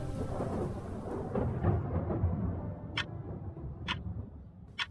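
A thunderstorm rumbles with a deep, rolling peal of thunder that swells and then fades, followed by a few sharp ticking clicks spaced about a second apart, with no talk.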